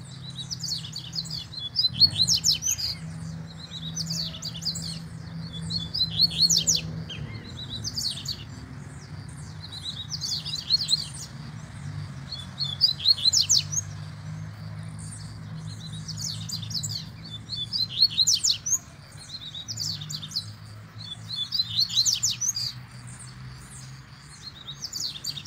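A double-collared seedeater (coleiro) sings in the wild in repeated bright chirping phrases, close and clear over steady low background hum, with no talking.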